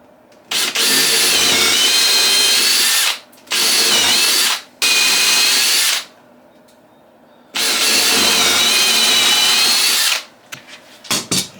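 A power drill whines loudly in three separate bursts, bit biting into wood, with short quiet gaps between runs and faint clatter at the end.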